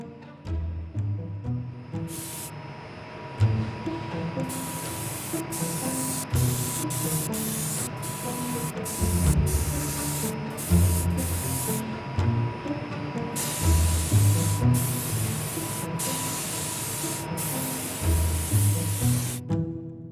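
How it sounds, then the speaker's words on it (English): HVLP (high volume, low pressure) spray gun spraying stain onto a carved wooden deer head shelf, a steady broad hiss in repeated bursts of several seconds with short pauses between passes, close and loud. "It's called an HVLP system. It's high volume, low pressure."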